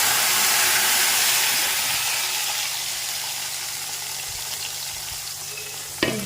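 A ground spice paste fries in a pan over cumin seeds and green chili, opening with a loud hissing sizzle that gradually settles to a quieter crackle, then a sharp clatter near the end.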